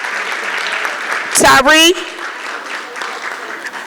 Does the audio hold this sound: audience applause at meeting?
yes